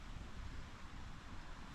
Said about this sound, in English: it's just so windy up on here top of this mountain